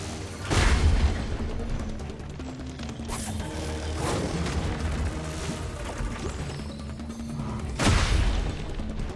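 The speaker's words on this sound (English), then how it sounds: "I think I actually have to shoot the bomb instead of just like popping it. It does more damage if I shoot it" A bomb in Kena: Bridge of Spirits detonates after being shot, giving heavy booming blasts near the start and again near the end, with a rumbling crash in between and no speech.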